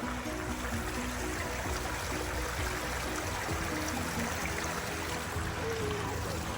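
Water in a forest stream flowing steadily, a constant broadband rush and trickle that stays even and fairly near for the whole stretch, with no voices over it.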